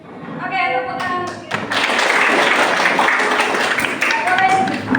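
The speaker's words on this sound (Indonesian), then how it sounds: "Oke, tepuk tangan." A classroom of students clapping together, a dense burst of hands that starts after a teacher's brief spoken prompt and carries on loudly for several seconds, with her voice returning faintly near the end.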